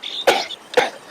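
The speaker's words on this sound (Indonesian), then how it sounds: "Cucuku batuk." A child coughs twice, about half a second apart, each a short harsh burst close to the listener in a quiet room, with a faint steady hiss between them.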